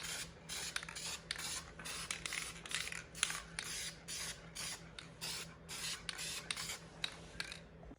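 Repeated short bursts of spray paint hiss as the engine head of a 1985 5HP Sears Craftsman snowblower gets its color coat, in quick, fairly regular pulses that are soft and close.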